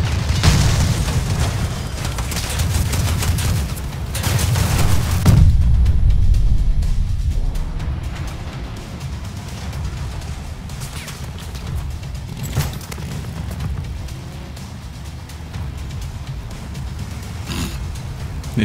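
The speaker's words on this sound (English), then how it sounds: "Just randomly shooting." Battle in the vehicle combat game Crossout: a heavy explosion swells around the five-second mark amid ongoing gunfire and booms, then the fighting fades to a lower, sustained rumble with occasional sharp pops.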